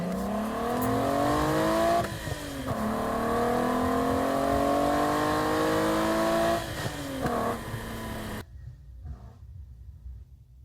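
A Volkswagen Golf GTI VR6 engine revs from inside the cabin, its loud, smooth tone climbing and dipping through several pulls over about eight seconds before cutting off to near quiet.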